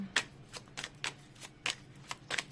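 Quiet, crisp tarot card flicks and slides, several soft papery snaps in an irregular rhythm, close by.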